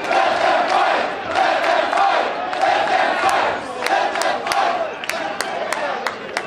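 A wrestling crowd at a PCW Ultra match between Hammerstone and Brian Cage roars steadily, a dense wash of cheering and rhythmic chanting with sharp claps or impacts cutting through near the end.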